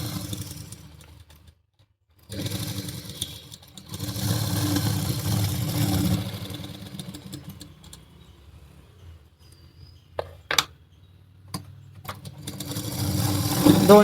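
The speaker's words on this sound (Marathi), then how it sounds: "व्यवस्थित टक्स आतमध्ये करून घ्यायचा आणि अशी शिलाई मारत घ्यायची" A sewing machine stitches tucks on a blouse in bursts: a steady mechanical whir runs about two seconds, pauses, then returns for several seconds. Near the end a few sharp clicks precede a final louder run.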